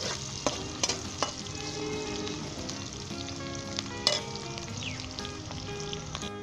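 Ginger, garlic and onion frying in a pan for aloo bhujia, with a steady close sizzle, occasional spoon stirs and sharp clinks against the pan.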